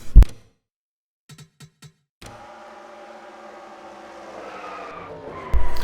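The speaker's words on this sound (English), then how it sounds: "this caused by me getting in the back of Tyler Reddick and just turning him in the outside wall" A race car in the NR2003 racing game slams into the outside wall at Talladega with a loud impact, then a sustained engine roar and scraping skid, ending in another burst of crash noise.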